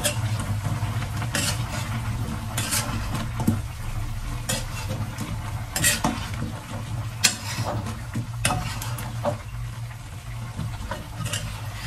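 A spoon stirs a fiesta dish in a frying pan, giving repeated scraping clacks over a steady low sizzle, fairly close and without talk.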